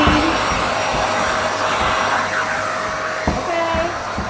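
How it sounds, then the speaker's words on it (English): A household vacuum cleaner running, a loud, steady motor whine and airflow roar that holds throughout, with a few faint bumps. "I need to vacuum clean."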